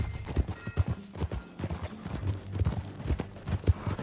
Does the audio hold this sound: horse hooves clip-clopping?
yes